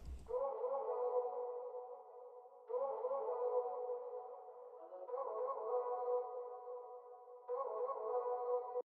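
Chopped vocal samples in an Afrobeats track, heard as faint, filtered, tonal phrases that repeat in four even sections with echoing tails, with no talk.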